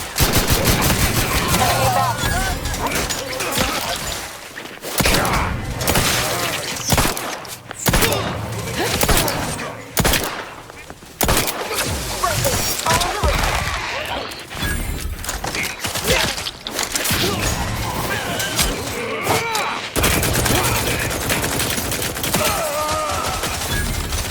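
Gunfire in the video game The Outer Worlds 2, with dense, continuous bursts of shots and thuds forming a loud firefight that barely lets up. A voice speaks occasionally through the battle.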